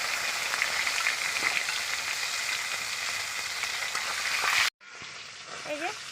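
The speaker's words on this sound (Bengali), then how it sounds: "মাছের মাথাটা আমি ভালো করে কড়া করে ভেজে নিয়েছি" Salted fish heads fry in hot oil with a loud, steady crackling sizzle for several seconds. It cuts off abruptly, then a quieter stretch of sizzling follows.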